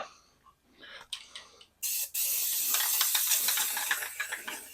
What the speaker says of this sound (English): I'm going to go back and spray a little of that on there